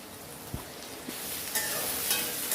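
Two green chilies deep frying in hot oil in a pan give a faint, steady sizzle that thickens after the first second, with a few soft clicks and pops. No voices are heard.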